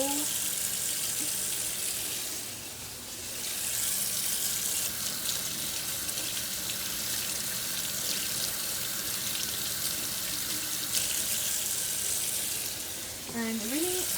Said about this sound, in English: You're gonna grab the meat and you're just gonna wash it with some water. Just let the water run through it, like so.